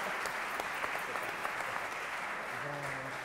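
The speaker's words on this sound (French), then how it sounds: "Merci de l'applaudir très fort." A school event audience applauds loudly, a dense, even wash of clapping that holds steady for a few seconds without pause.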